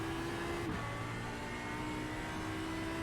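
An Audi R8 LMS EVO II GT3 race car engine at Okayama circuit in iRacing, droning loudly and steadily, dropping in pitch with a quick gear change and then pulling hard on acceleration, with no talking.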